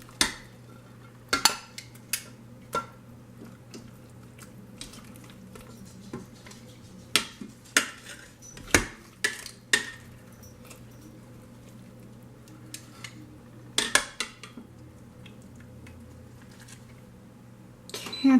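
Pork chops being lifted out of an Instant Pot with utensils, giving scattered clinks and knocks of metal on the pot at close range over a low steady hum, with quiet gaps between the sharp taps.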